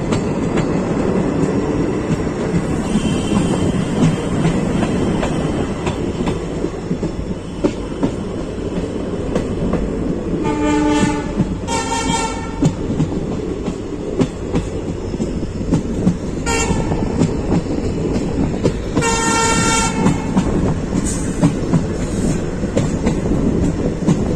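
Uttar Sampark Kranti passenger train running on the line from Kathgodam, heard from on board or close by: a constant loud rumble and rail clatter, with several horn blasts standing out over the steady roar.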